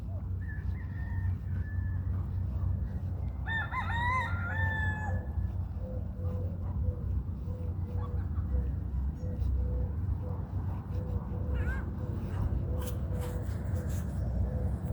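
Roosters crow on a Florida morning, with several separate calls rising over a low, steady background hum, some close and some farther off.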